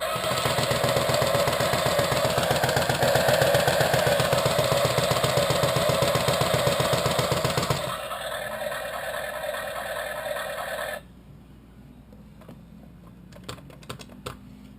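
A toy Chevy muscle car's steady, buzzing motor drone with rapid rhythmic ticking runs for several seconds, then drops to a softer hum and stops, leaving scattered clicks.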